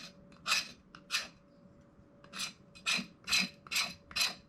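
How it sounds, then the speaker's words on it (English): Knife edge scraping shavings from wood for fire starting, a series of rasping strokes, roughly eight, close and fairly loud with brief pauses between them and no talk. "No problem getting shavings with the edge"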